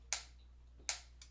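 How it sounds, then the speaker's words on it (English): Two sharp, bright clicks about three-quarters of a second apart, with a faint third starting at the end, from a metronome set to 80 beats per minute, heard alone over a low hum. "we're going to be working at a tempo of 80 beats per minute."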